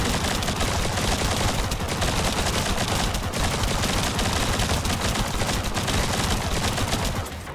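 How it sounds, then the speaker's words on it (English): Sustained rapid gunfire from The First Descendant shooter game, dense and continuous without a break for the whole stretch, loud and close. "you just keep shooting and shooting, and it never ends"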